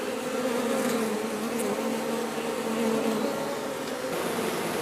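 Honey bees fan their wings in a continuous close buzzing drone with a steady tonal hum, no other sounds around.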